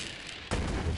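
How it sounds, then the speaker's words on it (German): Gunfire in Borderlands 3 on PS4, a sudden loud burst that cuts in halfway and holds as a dense, booming roar to the end. "Schießen wir mal."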